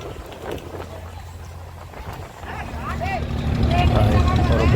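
Passenger boat at the Nainativu jetty, a low engine rumble that grows louder and closer over several seconds, with people talking nearby and other harbour sounds around it.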